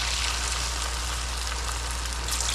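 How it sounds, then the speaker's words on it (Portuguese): Small pastel pastries deep-fry in very hot fat, a loud, continuous crackling sizzle with dense hiss and no talk. "Na hora de fritar, a gordura tem que estar bem quente para não ficar encharcado."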